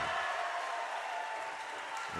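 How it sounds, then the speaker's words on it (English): Supporters applaud at a volleyball state regional championship game, Marina vs Carlsbad, a steady wash of clapping from a crowd filling the hall with no break. "drawing a large applause from his supporters"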